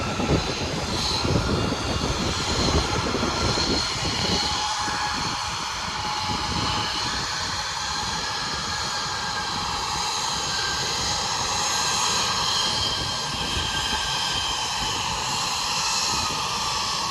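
Embraer E175 jet taxiing at Lexington's Bluegrass Regional Airport, a continuous loud engine whine and roar holding steady throughout, heard from nearby outdoors.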